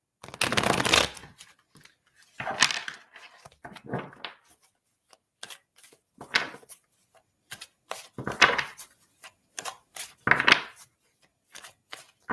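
Tarot cards shuffled by hand, close and crisp, in a series of quick riffling bursts separated by short pauses, with small taps and slides of the cards between them.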